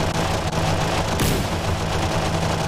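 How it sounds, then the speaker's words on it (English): Vulcan cannon firing from a C-130 Hercules gunship in DCS World, a continuous loud rumbling roar of rapid fire over steady engine drone, with one sharper burst partway through. "He's got the Vulcan cannon."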